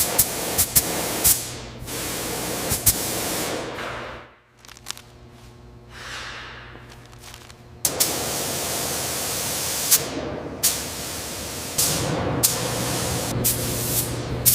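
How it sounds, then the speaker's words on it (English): Compressed air blasts steadily across the wheels of a 1908 steam traction engine, a loud hissing spray that cuts out briefly partway through and then resumes with short bursts. "move the compressed air down to the wheels"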